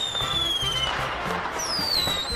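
Fireworks bursting and crackling in a continuous loud barrage, with whistling rockets rising in pitch and sharp pops layered over a dense rumble throughout.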